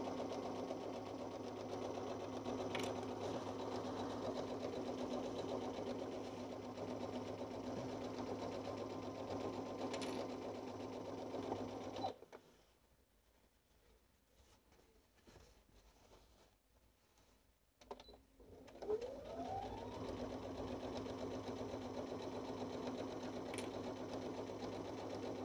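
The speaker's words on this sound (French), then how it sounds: "Je vous ai dit, moi je couds très vite." A sewing machine stitches trousers at high speed, a loud, steady, continuous whir that drops out for several seconds midway and then resumes at full pace, with no talking.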